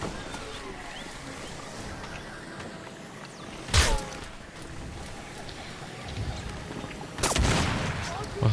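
Pump shotgun blasts ring out in the game Crysis Remastered, two sharp loud shots several seconds apart over a constant noisy game background with faint voices.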